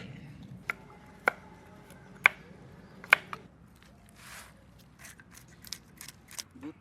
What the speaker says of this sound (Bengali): কাঁচা পাকা কুমড়ো কেটে নেব।